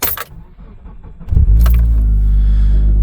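Keys jingle briefly, then a Mitsubishi Lancer Ralliart engine cranks and fires, settling into a loud, close, steady idling rumble that fills the rest of the moment.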